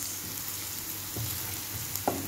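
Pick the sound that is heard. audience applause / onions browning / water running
onions browning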